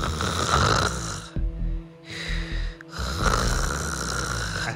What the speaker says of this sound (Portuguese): essa mulher ronca muito alto